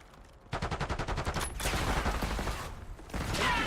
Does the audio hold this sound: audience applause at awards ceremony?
no